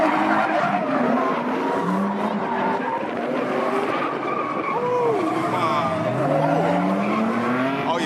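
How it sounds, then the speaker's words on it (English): A Ford Mustang drifts around a track with its tires squealing and skidding continuously over a roaring engine, heard from the crowd with distant voices underneath. "this Mustang is about to hit the track. Look at them boys slide"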